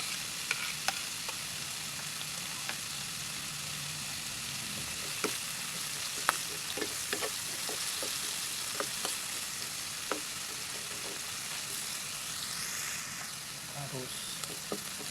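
Onions frying in a pan for pakbet with a little pork, a steady broadband sizzle throughout with scattered sharp clicks and scrapes of stirring, moderately loud with no talking.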